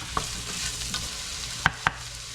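Onions sauté in oil in a pan, a soft continuous sizzle with a few sharp taps and scrapes of a utensil stirring, close and without talk.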